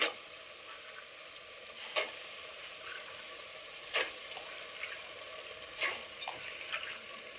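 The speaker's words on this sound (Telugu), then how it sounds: "కొద్దిగా వేగంగానే అలసందలు వేసుకున్నాం బాగా వేగిపోయిందండి" Black-eyed peas fry in a pan with a steady hiss and crackle, with a few sharper clinks or scrapes at intervals.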